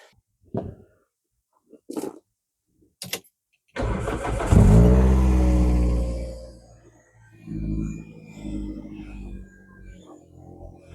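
A few sharp clicks, then a Toyota Celica engine cranks and roars to life loudly before settling into a steady, rumbling idle nearby.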